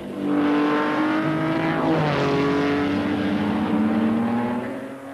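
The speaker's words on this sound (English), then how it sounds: "This 1953 Formula 2 race has the new 250F Maserati" 1953 Maserati 250F Formula 2 race car engine at a race, a loud, steady high-pitched engine howl with shifting tones as the car passes, sustained for about five seconds with no voices.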